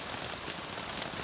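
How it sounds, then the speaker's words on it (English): Rain patters steadily on a tent, a dense and even hiss with no pauses and no voices. "it started to rain again"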